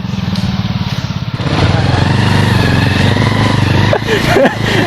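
A motorcycle engine runs close by on a road in Hilghagori, Assam, where the bike has to be pushed, with a steady, loud putter that swells after a moment, with people talking over it.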